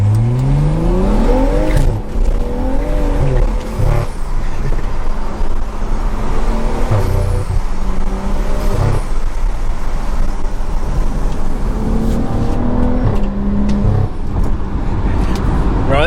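A stage 2 tuned BMW launches hard with launch control, its loud turbocharged engine climbing through rising revs and gear changes from inside the car, with someone speaking briefly over it.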